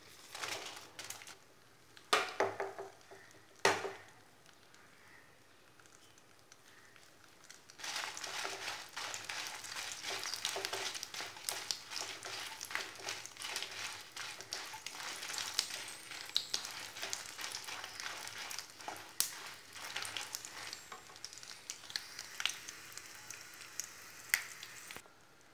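Dried red chillies frying in sesame oil in a pan for idli podi, a steady crackling sizzle that builds after a few sharp clatters and carries on evenly, close and moderately loud, with no talk.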